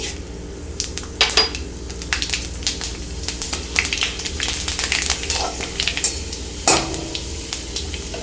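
Panch phoron spices crackle and sizzle in hot oil, with sharp pops and scraping clinks of a utensil against a pan.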